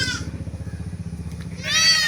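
A Malabari goat bleats loudly and close by at a livestock sale, the nanny kept with two young kids, the wavering cry rising sharply near the end over a steady low rumble.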